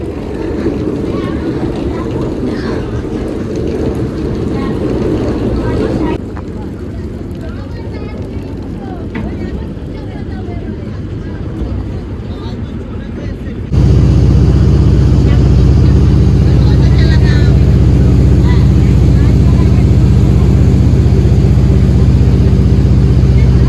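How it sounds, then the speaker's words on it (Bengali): A boat pulls away on the Ganges at dawn in fog, giving off a steady low engine rumble and water wash that swells louder partway through, with people talking over it. "আমাদের কিন্তু এই যে বোটটা ছেড়ে দিয়েছে"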